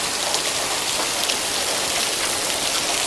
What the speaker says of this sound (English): Look at all that rain.